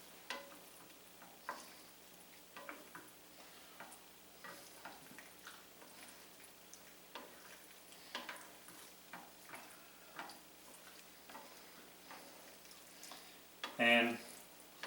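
Penne pasta is stirred together with hummus in a bowl, giving soft, irregular scraping and squelching strokes at low volume, with a louder clack near the end.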